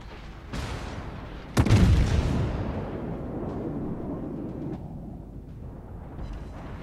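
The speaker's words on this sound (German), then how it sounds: "Einfach mal so ein paar Granaten rüberballern" Naval shells fired from the battleship Queen Elizabeth in World of Warships: a sharp shot, then a heavy booming salvo with a long rumbling tail that trails off, loud and near.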